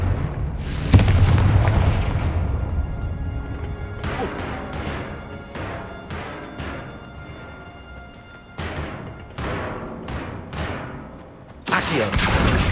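Confringo fire spell blasts in the Hogwarts Legacy video game: a loud booming explosion followed by a rapid series of sharp blast impacts with decaying tails, then another heavy burst at the end.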